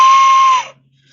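A handmade death whistle blown once, a loud, harsh, screaming shriek that holds for about half a second and then cuts off sharply into near silence.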